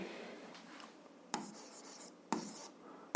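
Pen scratching out an algebra solution on paper, soft continuous scribbling strokes with a few sharper taps, close and quiet.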